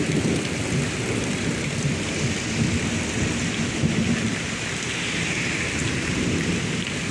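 Severe thunderstorm in Pittsburg, Kansas, with steady heavy rain and low rolling thunder rumbling continuously throughout, loud and dense with no talking.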